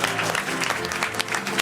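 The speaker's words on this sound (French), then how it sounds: "l'applaudir, hein, quand même" A television studio audience applauding a pianist, brief dense clapping from a crowd at moderate distance, with a voice faintly underneath.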